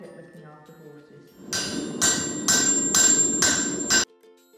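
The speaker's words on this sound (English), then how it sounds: "now she's hammering the red-hot metal into the shape of a horseshoe" A farrier's hammer strikes red-hot steel on an anvil while a horseshoe is forged, five loud ringing metallic blows at an even beat after a quiet start.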